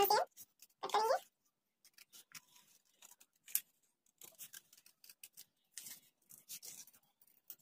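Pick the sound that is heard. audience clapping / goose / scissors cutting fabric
scissors cutting fabric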